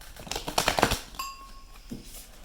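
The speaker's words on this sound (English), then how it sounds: "I'm literally shaking as I'm shuffling this deck right now" An oracle card deck is shuffled by hand, making a quick burst of riffling card flicks up close, followed by a brief ringing tone and one more soft rustle.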